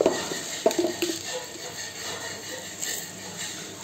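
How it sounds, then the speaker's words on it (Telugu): Urad dal, chana dal, cumin and mustard seeds drop into hot oil for tempering, giving a soft steady sizzle with a few sharp metallic clinks of a pan and spoon near the start. "ఇప్పుడు ఆయిల్ వేడెక్కింది, దీంట్లో పోపు వేస్తాను."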